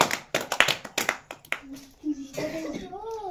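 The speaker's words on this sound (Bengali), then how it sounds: "সবাই একটা হাততালি।" Children clap their hands in a few short, uneven bursts at an indoor gathering where a game with notebook prizes is under way, and voices and a brief tone are heard in between.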